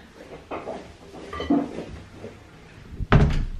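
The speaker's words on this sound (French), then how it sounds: "Je vais fermer la porte de la salle de bain." A bathroom door is handled with a few soft knocks and rattles, then shuts with a firm, close thud near the end.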